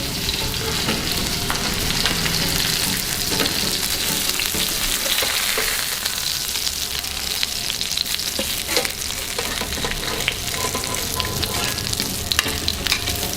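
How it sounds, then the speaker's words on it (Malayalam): Loud, steady sizzling of mackerel frying in oil in an iron pan, a continuous crackle and spatter close up with occasional stirring scrapes. "അപ്പോൾ നമ്മുടെ മീനൊക്കെ ഇങ്ങനെ നന്നായിട്ട് മുരിഞ്ഞു വരുന്നുണ്ട്"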